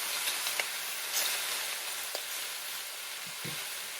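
Sausage sizzles and browns in a hot skillet, a steady bright frying hiss with a few soft pops and stirring clicks, moderately quiet and without talk.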